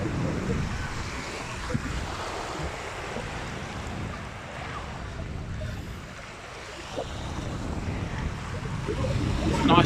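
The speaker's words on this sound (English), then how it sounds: "It's a nice day for a paddle in the sea." Sea waves washing onto a sandy beach at Torre Abbey Sands, Torquay, a steady close surf wash with gusting wind noise on the microphone throughout.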